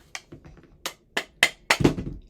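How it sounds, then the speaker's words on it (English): A non-marking hammer taps on custom furniture during an installation, giving about six sharp, close knocks in an uneven rhythm, with the last few louder and fuller. "Non-marking hammer."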